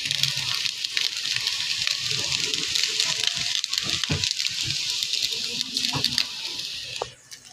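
Egg chow mein seasoned with Maggi masala is stir-fried in a pan, a continuous sizzle broken by scraping and tossing clatters, with a brief pause near the end.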